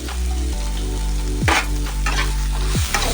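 Spices with turmeric powder fry and get stirred in a pan for a spinach and shrimp curry, a loud close sizzle with a few sharp scraping strokes, heavy low hum beneath.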